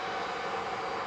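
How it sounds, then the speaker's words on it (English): Cessna Citation jet on approach at Manchester Airport, a broad steady roar of engine noise heard briefly and continuously at moderate distance. "We've got Cessna citation on approach for Catreus G Sol"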